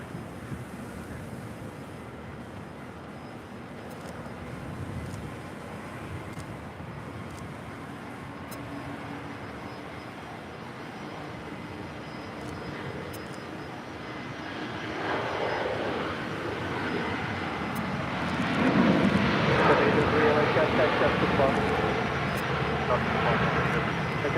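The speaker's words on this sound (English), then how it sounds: "The A380 is now rolling." An Airbus A380 rolls for takeoff at LAX, its distant engine roar swelling steadily louder over windy outdoor air, with a radio voice talking over the rumble.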